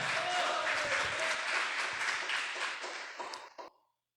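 Congregation in a church clapping together in dense, steady applause that stays strong for several seconds and then cuts off abruptly.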